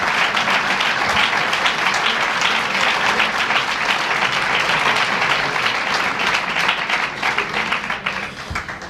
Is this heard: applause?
yes